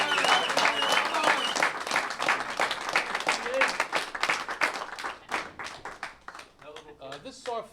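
A crowd applauds a person called forward, sustained clapping heard close and fairly loud, with talk mixed in and a voice continuing after the clapping thins out.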